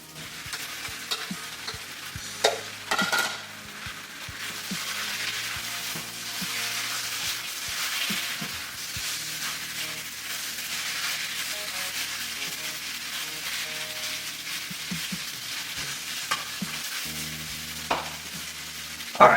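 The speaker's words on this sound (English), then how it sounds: "And then we're just going to put in the pork." Pork for a teriyaki dish sizzles steadily in a hot pan for the whole stretch, with scattered clacks and scrapes of stirring and tossing over the frying hiss and no one talking.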